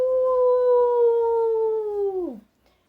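A human voice imitates a wolf howl with one long, steady sustained tone that holds for about two seconds and then slides downward as it fades out, loud and close with no other sound.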